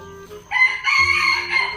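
A rooster crows loudly and close by, one strained cock-a-doodle-doo rising over a quiet background.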